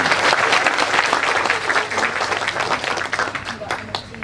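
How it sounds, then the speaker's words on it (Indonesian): A large audience at a Kenduri Cinta gathering gives dense, warm applause that holds steady for several seconds before tapering slightly toward the end. "Kita tepuk tangan yang meriah dan penuh cinta kepada generasi"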